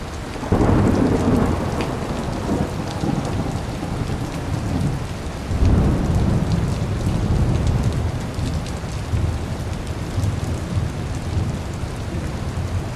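A thunderstorm rolls in with steady heavy rain on surfaces and deep rumbling thunder, loud at the start and again around the middle, with the downpour continuing throughout.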